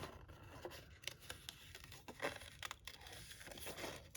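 Scissors snip around a paper picture cut out for a journal, giving soft, close clips and crinkling paper rustles in an irregular rhythm, quiet and without talk.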